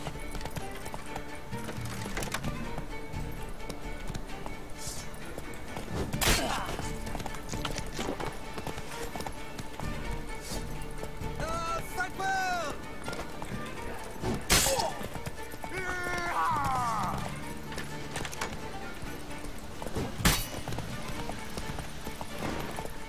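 Horse hooves galloping in The Witcher 3: Wild Hunt, a continuous rhythmic clip-clop under game music and ambience, punctuated by sharp impacts and brief whinny-like calls.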